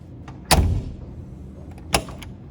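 Doors of a 1996 Rover Mini 1.3i, rally prepared, slamming shut twice: a loud, solid nearby thunk, then a second sharper thud about a second and a half later, with quiet rustle between.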